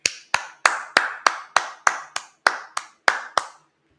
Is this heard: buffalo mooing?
no